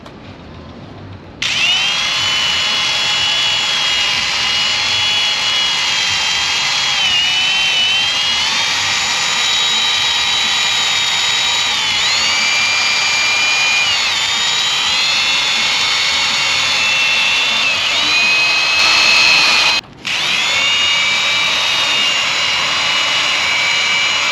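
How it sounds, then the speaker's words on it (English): A power sander from a headlight restoration kit works a car headlight lens with a loud, steady, high whine that holds for about twenty seconds, cuts out briefly, then resumes. "So let's get it going and let's sand it out evenly."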